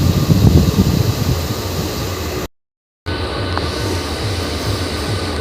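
The Howrah–Haldia 08001 special train pulls into Haldia station with a steady, close rumble of wheels and carriage noise, cut by a brief total dropout of sound before the rolling din resumes.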